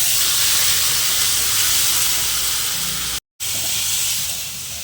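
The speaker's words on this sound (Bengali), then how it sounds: "টমেটোটাকে দিয়ে এখন ভালো করে ভাজবো।" Tomato frying in a pan for dal, a loud continuous steamy hiss and sizzle that cuts out briefly near the end before resuming.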